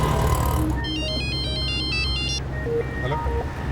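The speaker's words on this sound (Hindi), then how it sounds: "मोनिशा फोन नहीं उठा रही है सर।" Electronic phone ringtone playing a short repeating melodic pattern of bright beeping notes for about a second and a half, over a constant engine-like rumble and background noise.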